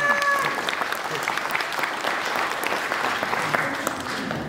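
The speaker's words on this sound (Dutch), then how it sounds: "Applaus voor machinist Mark!" An indoor audience at a railway museum show gives a loud round of applause, dense clapping that holds steady for several seconds and then fades slightly.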